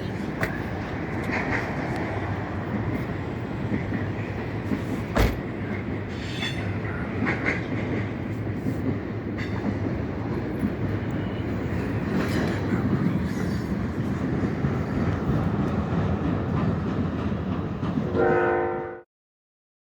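A train passes in Elkhart, Indiana with a continuous loud rumble and rattle of wagons, faint clicks of the wheels and a brief horn note near the end before the sound cuts off.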